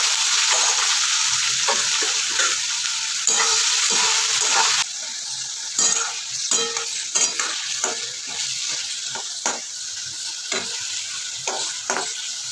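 Capsicum and beans hit a hot pan of spiced rice with cinnamon, cloves and cardamom, bursting into a loud sizzle that settles into close, steady stir-frying with clattering spoon-on-pan scrapes.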